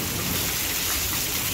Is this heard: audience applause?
no